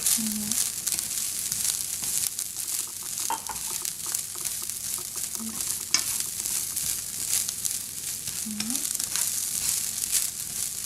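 Onions fry in a pan for Cantonese fried rice, giving a steady hiss of sizzling oil with stirring and a few short tonal blips, and nobody speaks.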